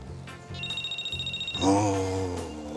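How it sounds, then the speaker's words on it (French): A telephone rings in a French drama series with a regular trilling bell pulsing for about a second, then a higher electronic tone, followed by a loud swell of music. "Téléphone."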